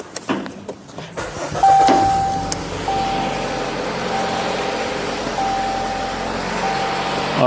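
A Chrysler 200 with an overheating and coolant-leak problem idles steadily in a garage after starting, a continuous low engine hum with a few brief tonal whines over it, heard alone at close range.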